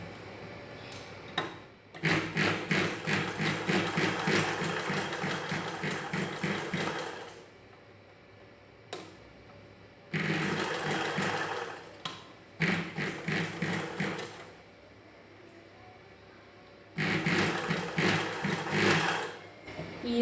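A sewing machine stitching the second side of a blouse runs in four bursts of rapid mechanical whirring and clattering, each lasting a few seconds, separated by quiet pauses.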